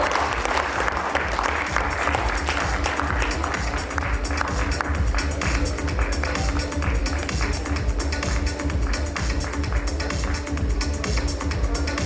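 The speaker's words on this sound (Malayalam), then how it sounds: "നല്ലൊരു കൈയടിയാവാം" Audience applause greets the project designer on stage at the Rorschach movie success celebration, a dense, steady, loud clapping that continues without pause, with faint crowd noise beneath.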